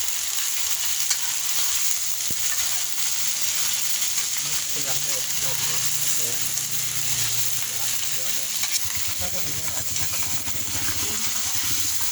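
Spicy eel stir-frying in plenty of oil over Thai-Isan style cooking, a steady broadband sizzle running throughout with occasional stirring scrapes and clatters, loud and close, with a voice speaking over it at times.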